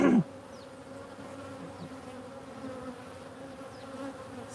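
Honeybees buzzing steadily around a honey harvest, a dense continuous drone holding at a constant level for the whole stretch after a brief louder knock at the start, with no voices.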